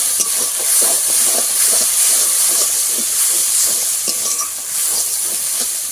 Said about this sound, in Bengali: সম্পূর্ণ মশলা ভালো করে নেড়ে ছেড়ে কষিয়ে নিতে হবে যতক্ষণ না মশলা থেকে তেল ছেড়ে যায়